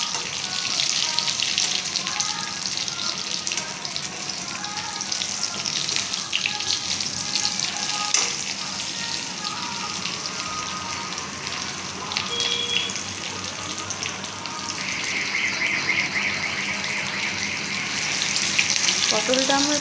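Pieces of pointed gourd (potol) fry in hot oil on a gas stove, giving a steady, fairly loud sizzle that runs the whole time, slightly stronger toward the end, with no one talking.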